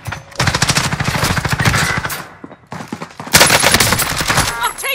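Rapid automatic gunfire in Call of Duty Warzone, dense bursts of shots with a short pause midway before another loud volley, close and alone.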